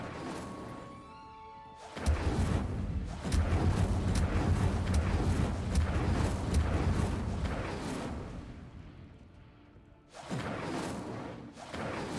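Incendio fire spell cast in Hogwarts Legacy, a sudden loud whooshing burst of flame that roars steadily for several seconds, fades, then flares up again in a second shorter blast.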